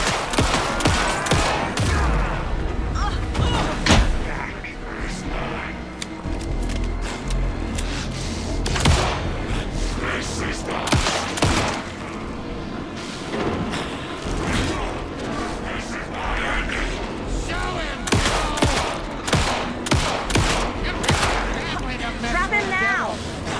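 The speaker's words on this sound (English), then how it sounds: "Anderson, put him down with gunfire for me to get the light on him." Rapid bursts of gunfire and crashing impacts from the Alan Wake video game ring out loudly and densely, mixed with game effects and voices talking throughout.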